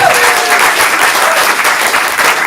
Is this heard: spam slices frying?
no